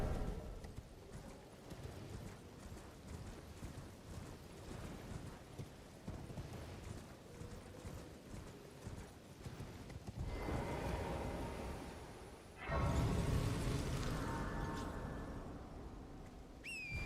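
A horse gallops in the video game Elden Ring, its hooves drumming in a steady, continuous clip-clop under a low rumble. The sound swells louder in the last few seconds.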